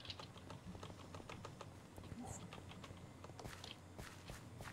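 Faint, quick typing on a computer keyboard, said to squeak, clicks along unevenly in soft irregular bursts while a Minecraft game plays, with low room noise underneath.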